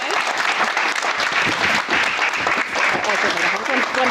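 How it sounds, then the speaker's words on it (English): Wedding guests break into dense, sustained applause, many hands clapping loudly and continuously throughout. "Let me clap for you guys."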